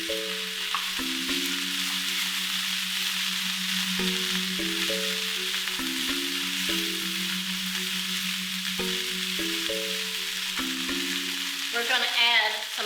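Toasted nuts tipped into fresh garden vegetables sautéing in a pan: a continuous soft sizzle runs under a melodic music track, with a brief louder rattle near the end.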